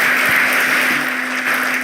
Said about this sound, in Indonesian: kita berikan tepuk tangan yang meriah buat beliau.